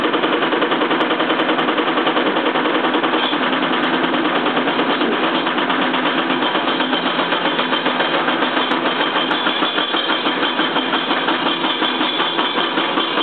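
A motor spinning an alternator at 2100 RPM in a homemade transfer switch setup, giving a loud, continuous, even mechanical whir with a fast steady pulse throughout.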